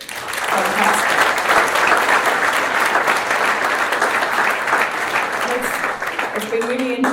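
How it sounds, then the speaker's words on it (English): An audience at an indoor citizenship event applauds in a sustained, dense round of clapping that holds steady for several seconds, with a voice briefly speaking near the end. "I think we really should give you a big round of applause"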